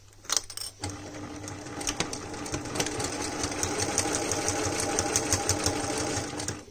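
Sewing machine stitching through velvet layered with coated cotton, running steadily and close after a brief start, a continuous whirring rattle with no talk.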